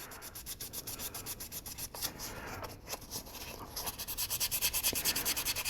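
Super fine sandpaper rubs back and forth over a resin figure piece in steady, close, soft strokes, the scratchy rhythm quickening toward the end.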